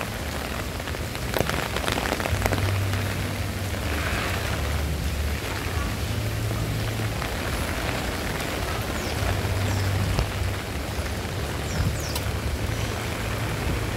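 Steady rain pours onto surfaces outdoors during a flooded wet spell, a dense continuous hiss with scattered drop patter throughout, while low voices murmur faintly underneath at times.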